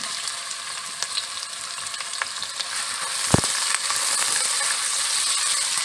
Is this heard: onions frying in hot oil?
yes